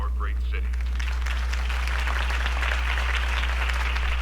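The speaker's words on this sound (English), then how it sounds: "could have heard that applause" Crowd applause following a mayoral-style campaign speech, steady clapping sustained for several seconds with a low hum underneath.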